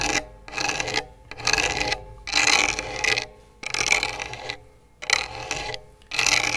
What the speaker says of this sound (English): So just rubbing across the sandpaper